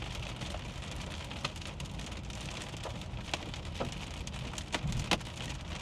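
Small hailstones and rain patter on a vehicle during a nighttime storm under a shelf cloud, a steady dense hiss broken by scattered sharper ticks and taps, with no voices.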